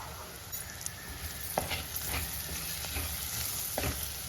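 Kashmiri chilli powder, turmeric and asafoetida are stirred in hot oil in a pan for a Kerala bitter gourd tamarind curry, giving a close, constant sizzle broken by several distinct spatula scrapes and no speech.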